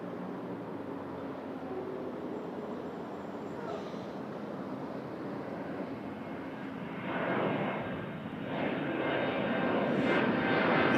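A FedEx Boeing 757 jet comes in to land on runway 05 at Toronto Pearson Airport, its distant engine roar a broad steady rush that swells louder toward the end.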